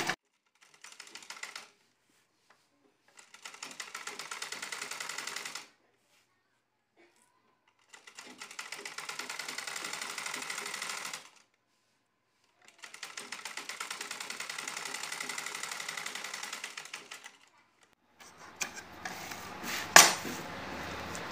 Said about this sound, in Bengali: এখন এই যে এরকম করে এই পটির উপর দিয়ে আরেকটা সেলাই করে নেব।